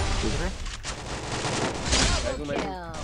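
Rapid bursts of video game gunfire and booming shots, dense and loud, overlapping in a busy, chaotic 4v4 firefight.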